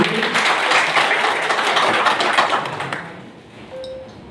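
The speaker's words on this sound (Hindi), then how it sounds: "थैंक यू ताली बजाइए इनके लिए" A crowd claps at a business association gathering, with dense applause for about three seconds that then thins out and fades to quiet.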